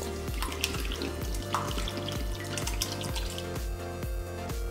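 Cold bottled water, 1.5 litres, poured into a container of chopped seaweed: a steady gurgling, glugging stream with a rhythmic pulsing from the bottle, close and continuous, without speech.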